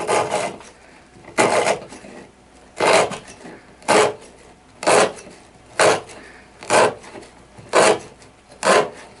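A knife edge of 20CV steel hardened to 64.5 HRC and sharpened to 7.5 dps slices through rope in a series of repeated cut-test strokes, about nine rasping, scraping cuts at a steady rhythm, each a short burst separated by near silence.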